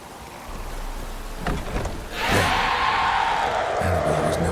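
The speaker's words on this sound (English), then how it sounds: "Looks like rain." Heavy rain pours in The Witcher 3, a steady hiss that swells suddenly into a louder downpour after a low rumble, continuing densely to the end.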